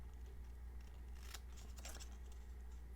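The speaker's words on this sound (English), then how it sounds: "Having good small paper snips are the way to go." Small paper snips fussy cutting paper for a craft project, with a couple of soft, quick snipping bursts over a steady low hum.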